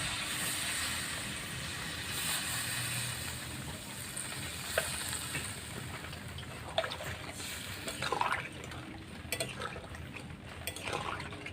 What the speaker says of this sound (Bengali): তো আমি এর মধ্যে এবার দিয়ে দেব ঝোলের জন্য জল